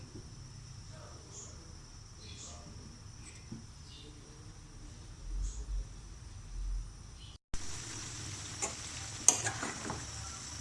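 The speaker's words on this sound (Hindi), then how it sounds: "अब मैं इसको हल्की आंच पे पकने दूंगी 5 मिनट तक।" Aloo gobi matar sabzi with potatoes, cauliflower and peas cooking on low heat, giving a faint, steady sizzle with a few soft clicks, then a short cut and a slightly louder stretch with some utensil scrapes.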